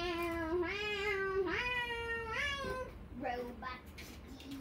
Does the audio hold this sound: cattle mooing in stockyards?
no